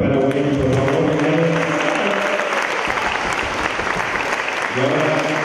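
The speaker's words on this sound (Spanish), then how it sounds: "Un aplauso súper fuerte para William, por favor." Loud, sustained applause from a concert crowd, a dense wash of clapping running for several seconds between stretches of a voice over the sound system.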